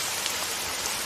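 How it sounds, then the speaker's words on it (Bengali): Steady rain falls in a dense, even hiss with no gaps or distinct drops, close and moderately loud throughout, with no voices over it. "এই বৃষ্টির মধ্যে কি কষ্ট।"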